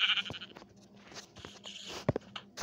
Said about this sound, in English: Hello, sheep, you will be mine now.